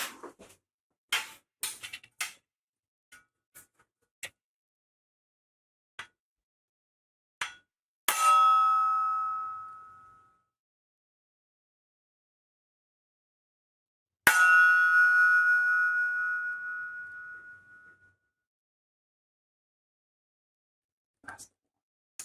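A metal book divider struck twice, each hit leaving a bright resonant ring that decays over a few seconds, separated by quiet stretches with small taps and clicks.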